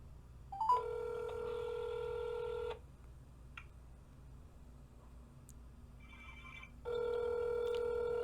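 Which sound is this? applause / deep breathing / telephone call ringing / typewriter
telephone call ringing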